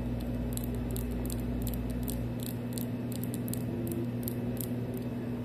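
Long nails clicking on the keys of an Idobao ID42 keyboard, a quick irregular patter of light taps over a steady low hum, close and soft with no voice.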